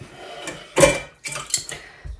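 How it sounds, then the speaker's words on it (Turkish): Dishes being cleared in a home kitchen: a loud clatter of crockery, then several lighter knocks and clinks of plates and utensils set down close by, with no talking. "Ben de bulaşıkları toparlıyorum."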